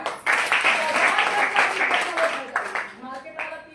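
An audience claps together at a talk about tea and health, a dense burst of applause that tapers off after a few seconds, with some voices mixed in.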